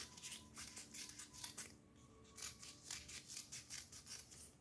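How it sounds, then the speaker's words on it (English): Scissors cut kinesiology tape into four fringes, a quiet run of rhythmic snipping and rasping strokes, close and soft, with no voices. "And you cut it into 4 fringes"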